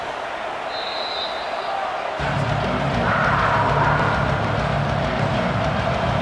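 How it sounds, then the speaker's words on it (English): Video game football stadium crowd roars louder during a Notre Dame at Penn State matchup, a steady broad rumble that swells partway through and stays loud to the end. "the crowd coming to life here, trying to help this defense down in the red zone"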